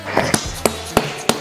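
A hammer strikes repeatedly while a Porsche 915 transaxle is taken apart, five sharp, close metallic knocks spaced roughly a third of a second apart.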